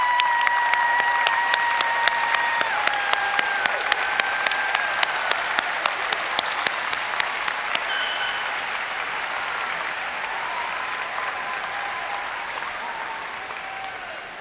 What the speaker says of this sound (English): please give these amazing people a round of applause.